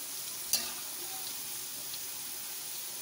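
French fries turning golden in hot oil give off a steady, close sizzle with one brief clink early on, and no voices are heard.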